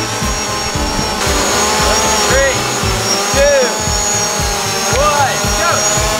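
Two camera drones, a DJI Mavic Pro and a Phantom 4 Pro, held at full throttle in a tug of war, a loud steady whining buzz of propellers with wavering pitch, close and continuous throughout.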